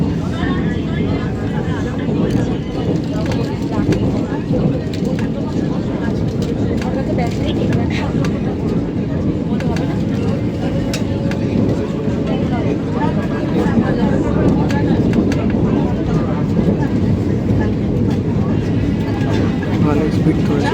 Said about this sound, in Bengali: ভালো স্পিড ধরেছে ট্রেনটা